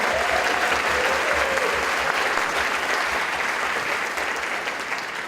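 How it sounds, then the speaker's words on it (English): An audience at the Mystic Theater gives a full, loud round of applause with some crowd noise, the clapping fading slightly toward the end. "How about a nice round of applause for those guys as well?"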